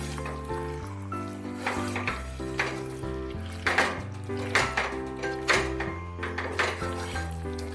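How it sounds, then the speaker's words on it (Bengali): A splash of water hits chicken cooking in a pan for kasturi methi chicken and sets off a loud sizzle. The frying crackles in bursts over a steady tonal background, with no talking. "এবার চিকেনটায় সামান্য একটু জল দিয়ে দেব।"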